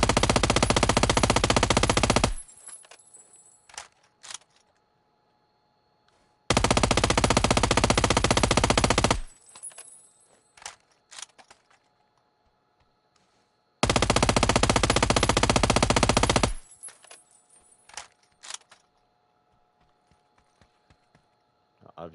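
Rifle gunfire in the PUBG video game, three long bursts of dense rapid automatic shots, each lasting a couple of seconds and separated by quieter gaps with scattered single clicks and echoes, loud and near.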